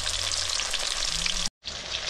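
Tuna fish sizzles steadily in hot oil in a pan, a loud, close, continuous crackle that cuts out abruptly for a moment before resuming, with no talking.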